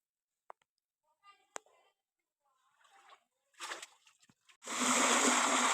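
Water is scooped from a shallow rock pool and poured out: a few soft clicks and small splashes, then a loud, steady, close pour fills the last second.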